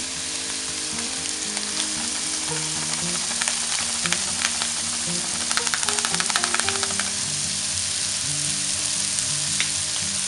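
Gnocchi and Italian sausage sizzle steadily in a pan, with dense crackling and scattered sharper pops and scrapes as the food is stirred, heard close up with no talking.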